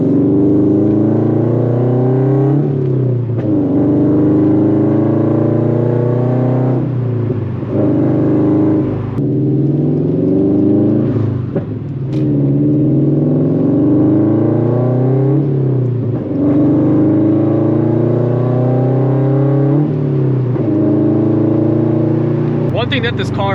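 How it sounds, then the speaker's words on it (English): A straight-piped Subaru BRZ / Scion FR-S / Toyota 86 with a backfire flame tune revs loudly in repeated bursts, each throttle lift crackling with pops and bangs from the exhaust, recorded close by. "I tried my best to go ahead and get some outside shots of the pops and bangs as well"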